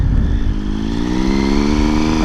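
A 2012 Triumph Street Triple motorcycle with its 675 engine, a loud, close, steady engine drone with a smooth rising rev, without voices over it.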